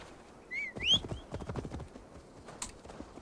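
Horse hooves clip-clop in a short run of quick, fairly close steps in Assassin's Creed Valhalla, with a brief whinny-like call near the start and faint game ambience underneath.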